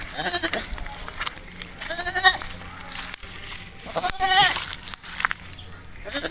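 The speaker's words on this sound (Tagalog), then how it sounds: "maliit talaga itong kambing na ito" A goat bleats repeatedly up close, wavering cries rising over a soft outdoor background with rustling and a person talking now and then.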